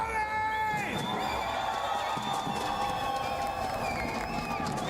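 A large arena crowd at the PUBG Mobile esports grand finals in Paris makes a constant roar with scattered shouts, whistles and cheers throughout.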